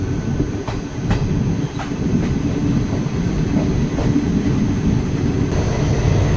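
The Malda-Howrah Intercity Express runs at speed, its loud, steady rumble punctuated by regular clickety-clack wheel beats over rail joints, heard from aboard with no talking.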